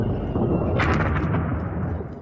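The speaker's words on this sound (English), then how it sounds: "In Sudan, the concussion from explosions pierced the air" Explosions and gunfire in war-torn Sudan, a dense rumbling roar with a sharp blast near the start and several cracking bursts ringing out over heavy, continuous low booming.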